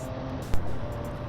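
A 2018 MV Agusta Dragster 800 RR, 140 horsepower, riding with a steady engine drone and wind noise, a brief thump partway through, no talk.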